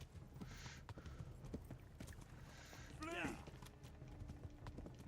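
Horse hooves clip-clop in the medieval video game Kingdom Come: Deliverance, a steady trotting rhythm in the mid-ground under game sounds, with a player talking over it.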